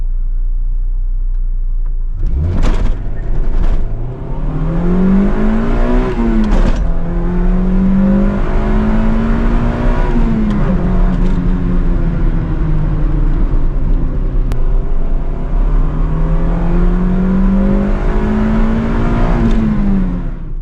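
A tuned car with a lightweight flywheel idles, then revs hard several times during a run, its engine note repeatedly rising and falling in long sweeps, loud and close with a deep rumble underneath.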